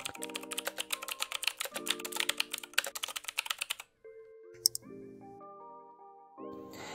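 Someone types a reply to a client on a computer keyboard in a CRM app, with rapid, close, clicky keystrokes in short runs, followed by a few soft electronic notification tones.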